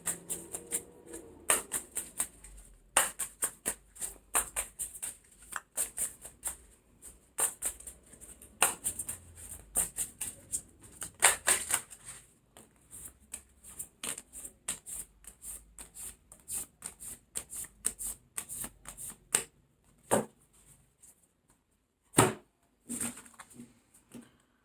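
Tarot cards being shuffled by hand, a long run of crisp riffling and slapping bursts in uneven clusters, close and fairly loud, thinning into sparse separate snaps toward the end, with no talking.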